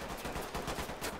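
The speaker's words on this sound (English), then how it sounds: "he shot me through the fucking wall" Rapid gunfire in a shooter video game, a fast burst of repeated shots, faint and muffled as if coming through a wall.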